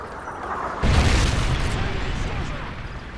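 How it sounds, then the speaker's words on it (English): A predator missile strike in Modern Warfare 3 multiplayer: a loud, deep boom hits suddenly after a quieter stretch, then rumbles and slowly fades. "Friendly predator missile inbound."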